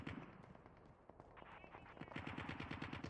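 Video game gunfire on the Alcatraz map, rapid rattling automatic bursts with overlapping shots, a dense continuous volley at moderate distance.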